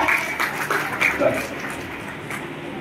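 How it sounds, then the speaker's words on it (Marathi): Applause at a children's birthday party with a magician as host: a short burst of clapping from a crowd, loud at first and then thinning out, mixed with indoor chatter. "याच्यासाठी पण जोरदार टाळ्या."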